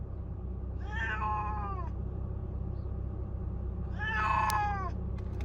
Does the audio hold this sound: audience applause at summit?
no